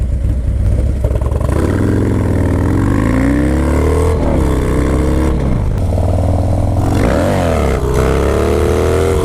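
A Harley-Davidson Dyna Low Rider S motorcycle's 2-into-1 exhaust roars loudly up close, revving up and down through the gears with a deep, throaty, continuous engine tone.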